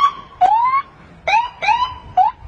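Rising, wailing tones like a police car siren come in short, loud bursts, about five sweeps each a few tenths of a second long, with a man imitating the siren by mouth.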